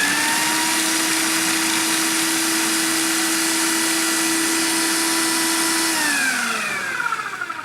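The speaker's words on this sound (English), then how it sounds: "Put it in a food processor and let her rip." A food processor runs on macadamia nuts with a loud, steady motor whine and a gritty churn beneath it. Near the end the motor winds down and the pitch drops as the blade slows.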